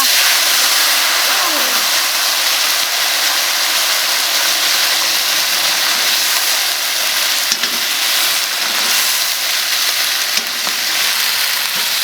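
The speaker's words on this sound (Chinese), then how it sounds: "减一点油，下锅炸。" Loud, unbroken sizzling of crayfish deep-frying in a pan of oil, a constant hiss with occasional sharper pops and a voice briefly heard.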